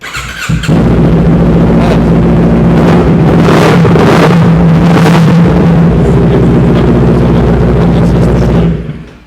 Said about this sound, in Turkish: Hemen size tekrar egzozu bir dinletelim arkadaşlar sesini.